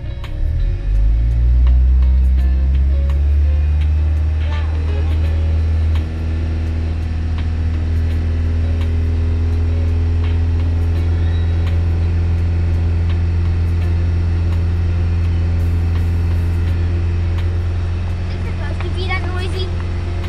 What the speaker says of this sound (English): I'm doing this with my foot, trying to warm up the engine